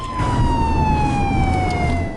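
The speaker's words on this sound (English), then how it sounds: "I began to hear police sirens." Police sirens wail close by and loud, with a steady descending tone and constant traffic rumble underneath, and no speech.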